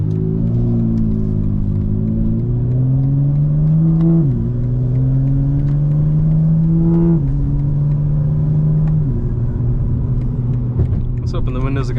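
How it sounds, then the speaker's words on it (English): A 2025 BMW M4 Competition drives in 5th gear with a steady deep engine drone heard from inside the cabin. The pitch dips as it shifts down to 4th and the loud rumble then continues. "We're in 5th gear. Oh, 5th to 4th. Just tell me that doesn't sound like a race car, guys."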